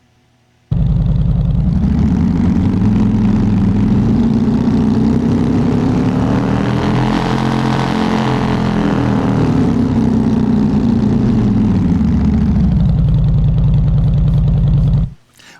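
Synthesized car engine from the Krotos Igniter plugin running in Wwise, its RPM ramped up then back down, a loud continuous roar climbing in pitch to a peak midway before falling and cutting off, with no talk.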